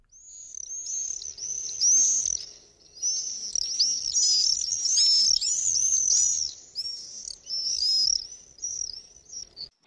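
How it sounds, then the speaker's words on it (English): Swifts, early spring arrivals, giving repeated shrill screaming calls in overlapping bursts that swell and fade as the birds pass, fairly close, with no voices. "It's the sound of the first swifts arriving"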